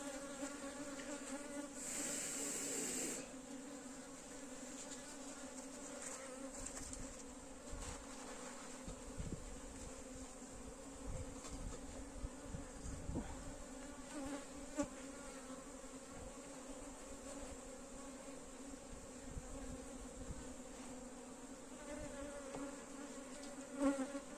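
Honeybees buzz in a dense, continuous drone at the hive while it is being calmed with light smoke, the steady hum filling the whole stretch with no talk over it.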